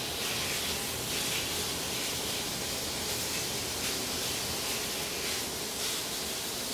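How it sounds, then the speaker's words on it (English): Bacon breaks apart and cooks in a well-heated pan, giving a steady, dense hiss of sizzling fat that holds at an even level throughout, with no voices. "let's start cooking the bacon."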